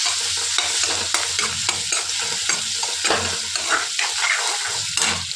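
Onions sizzle loudly in a pan while being stirred for pasta, a dense continuous frying hiss with frequent rhythmic scraping strokes of a spoon, close and without any talk.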